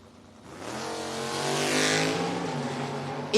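Drag race cars launching at a Door Wars event, engines roaring up from idle into a loud sustained howl with rising pitch, heard from nearby and steady over about three seconds.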